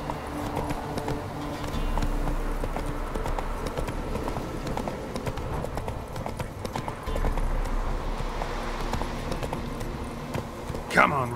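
Roach the horse moves along in Witcher 3 with steady, rhythmic hoofbeats that are fairly close and clear over a quiet outdoor ambience. A short voiced whinny comes near the end.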